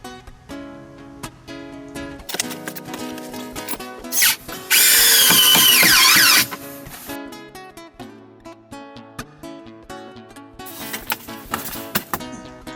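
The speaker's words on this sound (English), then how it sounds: "now I'm just using some self-tapping screws" A power drill whirs in repeated bursts, driving self-tapping screws into a van's metal, with one louder high-pitched stretch in the middle; no talking.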